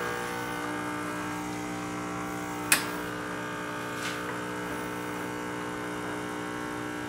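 A Nuova Simonelli Musica espresso machine pulling a shot through a spouted portafilter into a cup gives a steady close electric pump buzz, broken once by a sharp click and a faint second tick.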